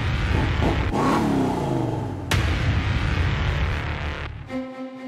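A car drifting under handbrake, sliding on shifting weight, with its engine revving loud and close throughout, a sharp burst near the middle and a steady tonal drone at the end.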